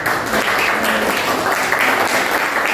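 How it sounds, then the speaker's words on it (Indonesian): Applause from a classroom audience for a student group that presented bamboo handicrafts, a steady dense clapping wash filling the whole stretch at close range. "tepuk tangan untuk kelompok Abimanyu"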